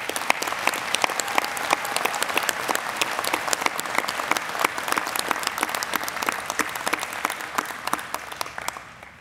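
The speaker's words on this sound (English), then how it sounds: "Please join me in one more round of applause for Dr." An audience at a spring convocation ceremony claps steadily, a dense, even round of applause that tapers and fades in the final second.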